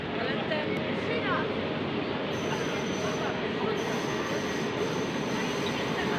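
A Koleje Małopolskie EN 78 passenger train rolls past close by in Katowice, a loud continuous rumble of wheels on rails with faint squealing, steady throughout.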